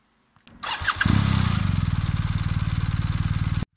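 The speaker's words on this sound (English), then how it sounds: "Meet the 2020 BMW R1250R, a stunning beast from the Bavarian Motorrad factory" A 2020 BMW R1250R motorcycle engine cranks and fires, then settles into a loud, close, steady idle with a rapid even pulse before cutting off.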